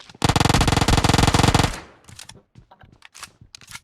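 Rapid automatic gunfire from PUBG Mobile, a loud sustained burst of about a second and a half of evenly spaced shots, followed by scattered fainter single shots and clicks.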